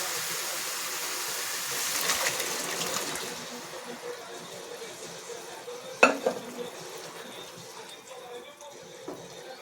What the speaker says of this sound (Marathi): आता यामध्ये आपण छोले घालून घ्यायचे.